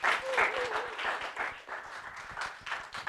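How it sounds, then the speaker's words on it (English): Audience applause for panelists at a human rights forum on combating racism, moderately loud and uneven, with some separate nearby claps and a brief voice early on. "But a round of applause for our panelists."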